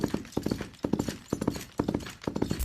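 Coconut shells knocked on the ground to imitate a galloping horse, giving a steady, close, hollow clip-clop in repeated groups of hoofbeats with no voices.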